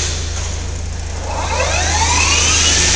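A Bridgeport Romi EZ Path III S lathe (23 by 120 inch) spins its spindle up to 2,500 RPM, giving a loud, steady mechanical drone with a whine that climbs in pitch, close by and without talk.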